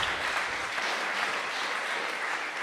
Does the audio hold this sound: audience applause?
yes